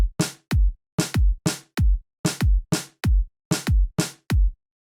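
A programmed snare drum pattern from a beat sequencer, sharp dry hits in a repeating pair-wise rhythm, loud and clean with silence between strokes and no voices.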